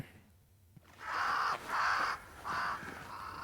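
Crows caw in the video game Banishers: three loud, harsh calls in quick succession after a brief hush, close and clear over low ambient game noise.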